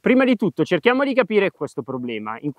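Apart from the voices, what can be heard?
No distinct noise like a dog, phone or traffic.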